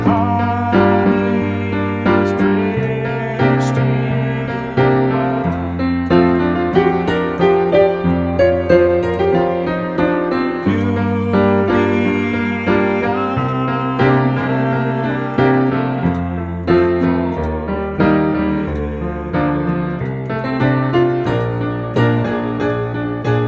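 A piano improvises a flowing melody over a steady bass, notes moving continuously for a long stretch, loud and close with no talking.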